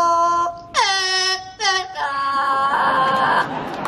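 A bird at an Ontario safari park show whistles the tune of O Canada in clear, loud, pure tones, with a short opening note followed by sustained, sliding whistled phrases.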